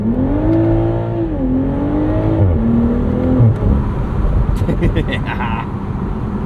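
A 2023 BMW Z4 M40i sports car engine drones and rises in pitch as it revs, then pops and crackles through the exhaust in quick bursts, loud and close.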